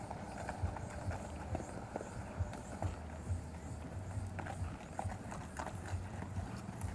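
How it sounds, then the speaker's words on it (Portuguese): Horse hooves clip-clop in a steady, fairly loud rhythm at a horse and animal fair in Abreu e Lima, Pernambuco, set against busy outdoor crowd noise with murmured voices. "Esse é outro cavalo."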